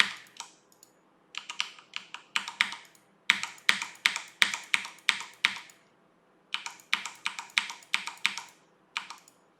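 Keys on a computer keyboard are pressed one at a time while keying animation frames. The sharp, close clicks come in steady bursts, broken by short pauses, with no talk.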